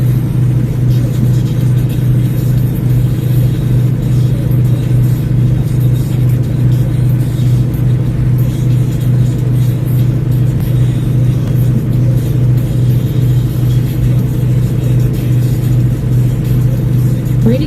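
A semi truck's diesel engine runs steadily at 1,500 RPM at crawling speed, giving a loud, constant low drone with a strong hum that holds unchanged throughout, with no voices.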